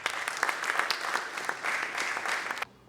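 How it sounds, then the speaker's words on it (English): Audience applause welcoming a guest speaker at an entrepreneurship summit, a dense burst of clapping with a few louder claps standing out, steady for nearly three seconds before cutting off abruptly into quiet. "With a round of applause, ladies and gentlemen, shall we welcome Madam Angela Asante."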